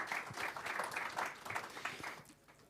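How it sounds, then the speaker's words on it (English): Applause from an audience for people on stage at a panel session, steady mid-level clapping through the whole stretch that thins out slightly toward the end. "So a big round of applause for everyone on stage"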